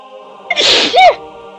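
A single sharp sneeze bursts out close and loud, a quick inhaled build-up snapping into a breathy explosive release, against a faint steady background hum.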